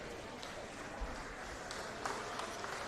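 A distant stadium crowd at Belmore claps faintly for substituted players at a state-league men's football match, a soft, steady patter with a few sharper claps standing out.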